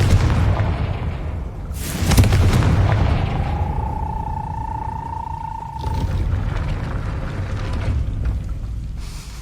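A Confringo spell explosion in the video game Hogwarts Legacy: a loud booming blast with deep rumble, followed by a sustained whistling tone and a second rumbling burst.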